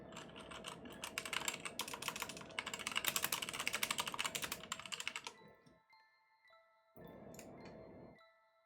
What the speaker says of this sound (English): You're getting keyboard ASMR.